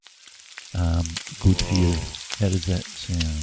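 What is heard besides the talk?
recording of eggs frying in a pan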